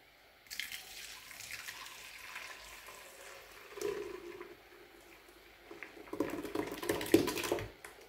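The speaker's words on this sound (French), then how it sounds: "je vais filtrer mon lait pour récupérer l'eau cara" Homemade soy milk is strained to recover its cooking water, giving faint, close liquid pouring and dripping with soft squishing, growing louder and more splashy toward the end.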